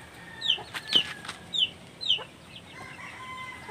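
Native chickens clucking nearby, four short, bright calls about half a second apart, then quieter background noise.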